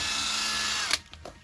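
An impact gun works a car's rear brake bolts during a drum-to-disc swap, a loud steady whirr that stops sharply, followed by a few faint clanks.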